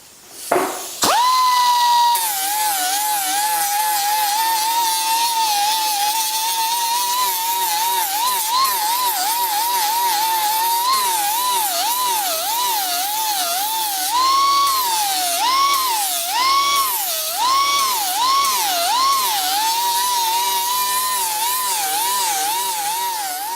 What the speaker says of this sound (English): I'm going to put the air onto my die grinder